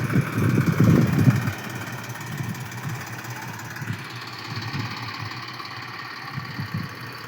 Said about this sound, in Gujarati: ફાઇનલ ઘણી મહેનત પછી આવી ગયો ટ્રેક્ટર